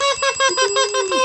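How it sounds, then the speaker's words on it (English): A kazoo buzzes while a bicycle-style bell rings in rapid repeated trills, loud and close, for about a second. "That gets a kazoo and a bell at the same time."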